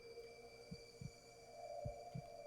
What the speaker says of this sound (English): Why am I hearing a heartbeat, actually?